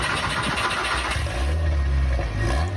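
A KTM X-Bow GT4 engine cranks and fires up in the Roblox game Driving Empire, a short burst of starter noise settling into a deep, steady idle rumble, loud and close with no talking.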